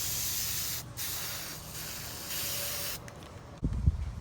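An aerosol can sprays a gold coat onto a Rawlings glove label in a continuous hiss broken by brief pauses, then a louder handling clunk near the end.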